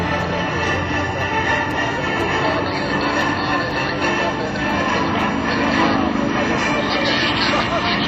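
A Pitts Model 12 aerobatic airplane flying at an airshow, its engine droning steadily and loudly throughout with a swelling roar partway through, while someone talks over it.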